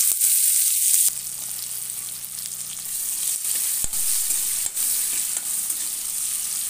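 Onions fry in a hot pan for a saru sukhua kasa, an Odia dish of taro and dried fish, giving a steady close sizzle broken by occasional stirring scrapes.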